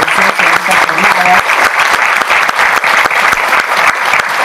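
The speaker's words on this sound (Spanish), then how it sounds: "Para él, que nos acompañe también, un aplauso." Dense, loud applause fills a conference hall at an international management conference, with many hands clapping close and steadily for the whole stretch and a brief voice under it near the start.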